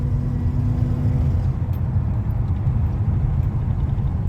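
A 2006 Pontiac Grand Prix with a supercharged 3.8L engine and 4T65E-HD transmission driving on a road, a steady low engine drone and road rumble from inside the cabin.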